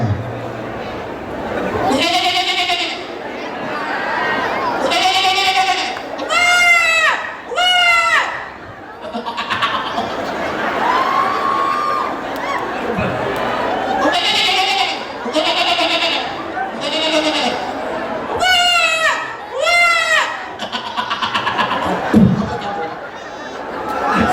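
A human voice mimics a goat on stage at a live comedy show during Rongali Bihu 2023 in Assam, giving a run of wavering, nasal bleats in repeated bursts over a murmur of crowd noise.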